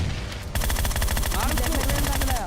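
Rapid bursts of automatic gunfire in the mobile battle royale game BGMI, loud sharp repeated shots in a steady rattling rhythm filling the whole clip.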